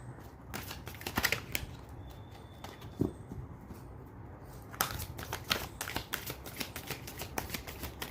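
Tarot cards being shuffled and drawn by hand, a soft, continuous riffling and slapping of cards with brisk flutters and small taps, close and quiet.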